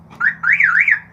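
A car alarm siren wails loudly and alone, its pitch sweeping up and down in a rapid warbling pattern after a short opening chirp.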